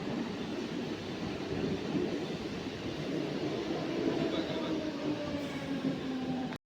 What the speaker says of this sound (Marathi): खोपोली ट्रेनचो 5:02 ट्रेन आलेली आहे प्लॅटफॉर्म क्रमांक 2 खोपोलीसाठी